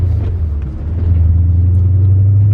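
A supercharged BMW E39 M5 with a manual gearbox drives on a test drive after a rod bearing job, its engine a deep, steady rumble that swells slightly as it pulls, close and loud, with no talking.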